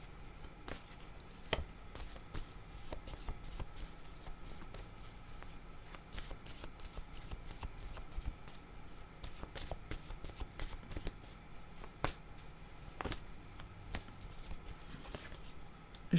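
A deck of playing cards is shuffled repeatedly, soft riffling and sharp snapping flicks recurring in an irregular rhythm over a faint, quiet background.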